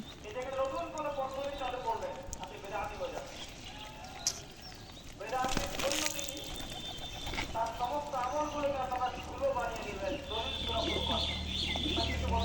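Gola, Giribaz and Lotan pigeons feed at their loft, giving steady cooing and soft rustling throughout, with one sharp clatter in the middle and a faint background hum building toward the end.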